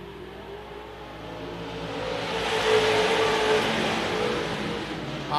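Super stock race cars run a heat at Gondik Law Speedway, their engines a distant, broad roar that swells as the pack passes and then fades slightly.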